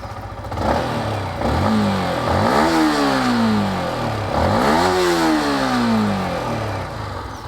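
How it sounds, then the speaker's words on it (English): Yamaha MT-15 V2 motorcycle exhaust revving hard twice, rising and falling in loud, close sweeps with a steady engine drone between, no talking. "Let me make you hear the exhaust note."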